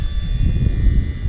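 A 1/7 scale RC Sopwith Camel biplane in British air force markings flies in a crosswind, its engine a steady low rumbling drone, moderately loud and continuous.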